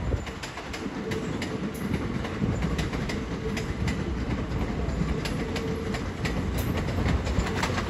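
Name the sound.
Southeastern Class 375 train arriving at station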